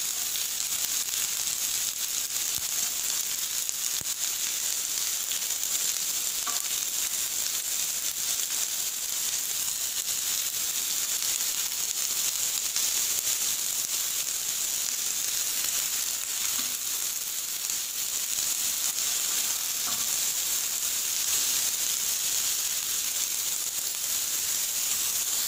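Finely chopped onions fry in hot oil for a dhaba-style egg curry, a steady broadband sizzle and hiss that stays even and fairly loud throughout, with a few faint clinks.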